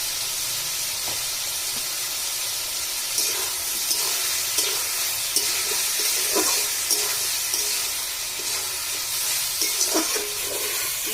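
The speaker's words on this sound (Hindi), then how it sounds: "मेरा चिकन अच्छे से फ्राई हो गया है" Chicken pieces fry with turmeric and salt in a hot pan, producing a constant loud sizzle with intermittent scraping and stirring knocks from a utensil, close-up and without talk.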